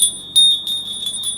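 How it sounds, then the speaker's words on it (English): A bell rings on a livestream, a bright sustained high tone with repeated strikes fading in and out over a quiet background. "Bell ring for Catherine Bush."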